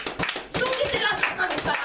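A church congregation claps in quick, lively rhythm, a dense close burst of many hands with voices mixed in during a worship service.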